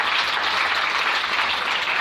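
A church congregation applauds in a dense, steady burst of clapping that holds evenly from start to finish, loud and close.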